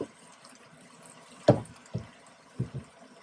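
Water goes into a pot of homemade beef chilli with kidney beans and a bay leaf. Soft pouring and splashing comes in a few short bursts, close and fairly quiet.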